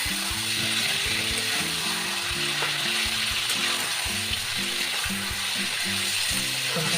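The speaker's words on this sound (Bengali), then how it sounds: "এবার চিকেনটাকে আমি ভেজে নেব ভালো করে।" Chicken rubbed with salt and mustard oil fries in a pan, giving off a steady, dense sizzle that runs unbroken throughout, with a repeating low tonal pattern underneath.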